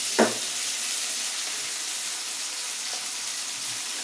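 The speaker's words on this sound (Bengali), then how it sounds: "আমি এই যে পেঁয়াজ কাঁচামরিচ কেটে রেখেছি, ফার্স্ট এগুলো দিয়ে দেই। দিয়ে এটাকে লাল করার জন্য একটু ভেজে নিই।" Chopped onions and green chilies frying in hot oil in a pan for a rohu fish and potato curry, giving a steady close sizzle and hiss with a couple of faint stirring clicks.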